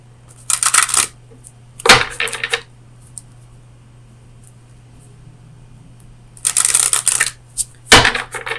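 Oracle cards are shuffled in close, crisp bursts of riffling and slapping, four separate flurries with quiet pauses between them.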